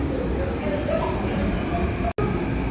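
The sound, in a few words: subway train of the Korean MRT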